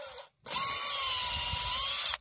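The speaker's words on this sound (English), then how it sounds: "take your drill and just drill" A power drill whines at a steady high pitch for nearly two seconds after a brief pause, loud and close, drilling through a plastic valve in a frozen Ford F-150 washer fluid line, then cuts off.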